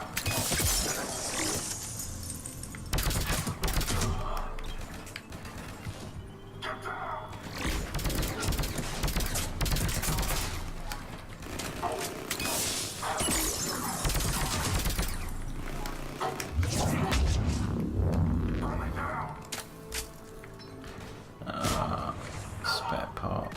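Gunfire from the video game Mass Effect 3, played in a Cerberus fighter base, crackles in repeated bursts and volleys amid other game sounds and voices that continue throughout.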